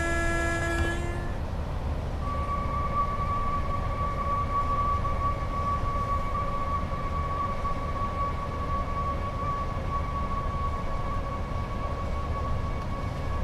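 A long freight train running out of Crewe in the Train Sim World 6 video game, with a constant low rumble of the moving train and a steady high tonal whine sustained throughout, preceded by a brief tonal sound at the start.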